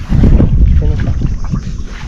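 A gasoline boat engine drones steadily at close range, with wind buffeting the microphone and a few faint voices underneath.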